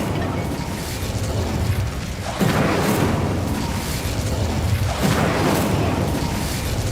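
Fiery spell burst from the Incendio charm in Hogwarts Legacy, a dense roaring whoosh that swells in two loud surges around the middle and end, with no talking.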